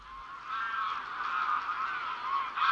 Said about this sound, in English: another great migratory bird, the grey-lag goose, also known as the wild goose